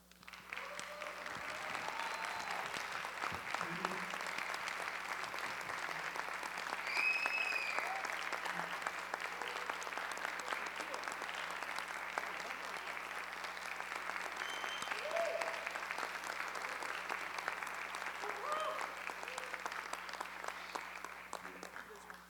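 A forum audience at the closing plenary of the sixth Fórum da Internet no Brasil applauds the organizing staff, a long, steady, distant-sounding wash of clapping over a low hum, with occasional faint voices and whoops.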